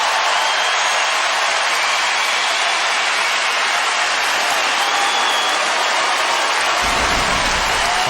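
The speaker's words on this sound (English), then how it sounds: "Obviously, the crowd is pumped up, and so is Roddick." A large crowd at the US Open men's tennis final applauds and cheers loudly and continuously, a dense, even roar of clapping with no pauses.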